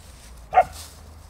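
A single short, sharp husky bark, or yip, sounds once against quiet background noise.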